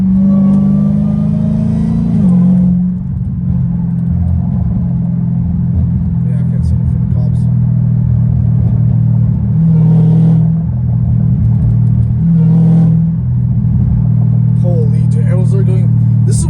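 Straight-piped Dodge Hellcat Redeye exhaust while driving: a loud, steady, low, droning rumble with shifting engine tones throughout, and faint voices underneath.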